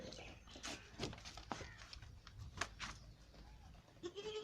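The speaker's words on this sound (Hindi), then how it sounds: "ये बकरी है, ये इसके दो हैं, ये देखें।" A goat on a village farm near thorny kikar trees bleats in short, wavering calls over an outdoor background of rustling and footsteps, with a final rising bleat near the end.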